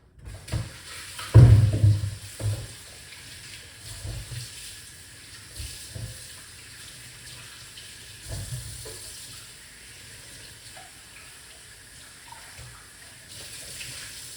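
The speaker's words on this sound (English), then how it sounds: "we're going to wash off our ingredients first before I go any further" Tap water runs into a sink while ingredients are rinsed, a burst of splashing near the start settling into softer intermittent trickling and handling noises.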